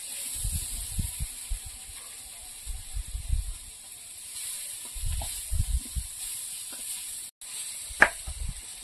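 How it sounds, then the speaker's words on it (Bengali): Chillies are ground by hand on a stone in an outdoor Bengali kitchen, producing low, rhythmic grinding and rubbing strokes in short bursts separated by pauses, over a constant high background hiss. "সেই জন্য আজকে বেশি করে লঙ্কা বাটছি।"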